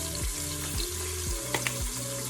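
Meat browns in a hot pan for French onion soup, a continuous crackling sizzle with periodic scraping strokes of a utensil stirring it, close and steady with no voices.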